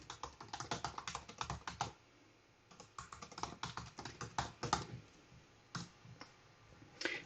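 Rapid keystrokes on a computer keyboard as comments are typed, coming in quick bursts with a brief pause near the two-second mark, close and fairly quiet with no talking.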